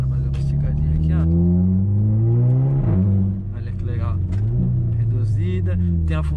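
A hatchback with a six-speed DSG dual-clutch gearbox revs hard as it accelerates, the engine note climbing loud and close through a gear change before pulling up again, with someone talking over it.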